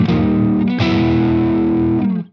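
Electric guitar through a Friedman amplifier set to a low-gain British tone, a sustained chord with a crisp, mildly driven edge struck twice and left ringing, loud and close with no talk.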